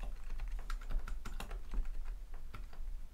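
A computer keyboard clatters as someone types to edit Hello World code in a new app project. The quick, uneven keystrokes sound close and clear above a low steady hum.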